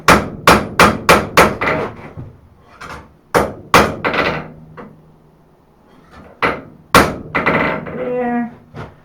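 A hammer strikes a hot steel knife preform on an anvil, a quick run of five sharp blows followed by scattered heavier strikes and ringing pauses, loud and close, with brief voices near the end.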